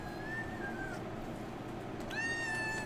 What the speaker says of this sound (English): He's a good kitty